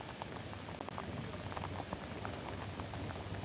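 Rain falls outdoors on a street, a dense steady patter of drops hitting the ground, fairly close and even throughout.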